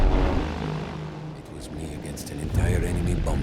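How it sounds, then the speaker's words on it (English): A bomber squadron of aircraft flies over in Battlefield 1, a low droning rumble under battlefield noise, with voices speaking over it. "bomber squadron."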